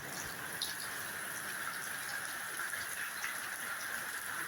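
Steady rain in Jaffna falls as an even, hissing wash of noise, faint and continuous with no pauses or talking.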